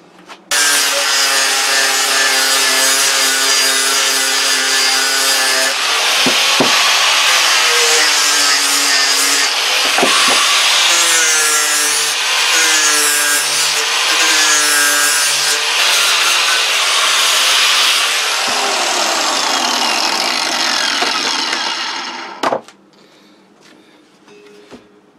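Hand filing or sanding a flag pole bracket for a Land Rover to clean the sides and round the corners, a steady close rasping scrape with regular stroke rhythm that runs continuously for over twenty seconds, then stops.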